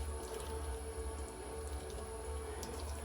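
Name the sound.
water being poured into a pan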